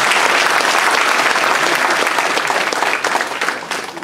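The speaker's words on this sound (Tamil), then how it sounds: "ஆகவே அவருக்கு எல்லாம் ஒரு தடவை கைதட்டி பாராட்டுகிறார்." A hall audience at an anniversary gathering claps together in loud, continuous applause that is dense and close, then thins out slightly toward the end.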